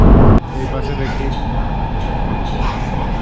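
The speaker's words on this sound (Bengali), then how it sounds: "এখন মেট্রো রেলে।" A metro rail train in China runs along with a steady low rumble and rolling hum, a loud clunk at the start, while people talk over it.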